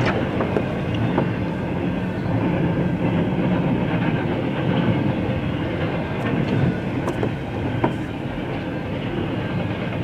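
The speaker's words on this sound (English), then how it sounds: "I wouldn't like to get hit by a train." A CN freight train rolls past on the tracks close by, with a continuous loud rumble and rhythmic clickety-clack of wheels over rail joints, plus occasional squeals and clanks.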